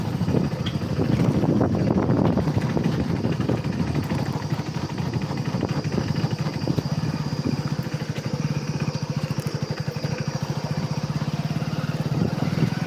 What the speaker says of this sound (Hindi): चलती हुई बाइक पे जंगल दिखा रहा हूँ आप सब।